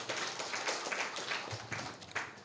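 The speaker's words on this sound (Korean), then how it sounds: "박수 한번 쳐주세요" Audience applauding during a church revival service, a dense wash of many hands clapping at moderate distance, fairly soft and steady throughout.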